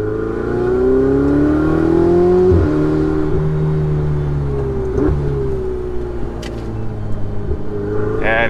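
A Ferrari 488 Spider engine drones loud and steady while climbing a mountain road, its pitch sliding gently down and up with throttle shifts, with brief clicks and a faint squeal late on.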